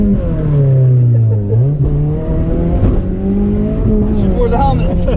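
A front-wheel-drive Ford Fusion revs hard during a burnout, its engine a loud, close, sustained drone that dips briefly, then holds and climbs again toward the end.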